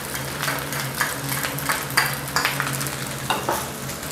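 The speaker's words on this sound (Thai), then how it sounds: "จากนั้นก็ผัดต่อเลยครับใช้ไฟแรงๆนะครับ" Rice with sweet dark soy sauce stir-fries over high heat in a wok, giving a loud close sizzle broken by repeated scraping clinks of a spatula against the pan, with no talking.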